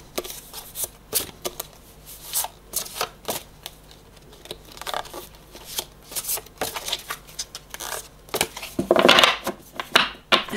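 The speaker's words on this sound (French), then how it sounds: "Bon, alors c'est un peu chiant à mélanger." A deck of oracle cards is shuffled by hand in short, uneven bursts of riffling and slapping, close and fairly quiet. A louder flurry comes near the end.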